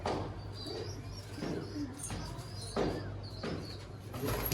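Pigeons of the Pateth breed, a pair of lilac patterned birds, coo repeatedly in soft low rounded phrases close by, with faint chirps and rustling around them and no talking.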